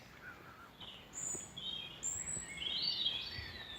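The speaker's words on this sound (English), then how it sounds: "those birds providing such an incredible backdrop of sound along with the insects" Birds sing in Powdermill Woods with insects buzzing, a scattering of bright chirps and whistled phrases building into a denser overlapping chorus, moderately near against a soft woodland hush.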